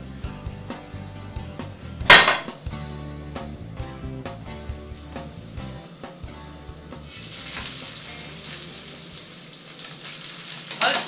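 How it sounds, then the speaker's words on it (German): Salmon frying in butter in a pan gives a steady crackling sizzle with scattered clinks and stirring, a sharp clatter near the start, and the hiss growing denser and brighter in the second half. "nun wird der Lachs angebraten. Pfanne? Jupp!"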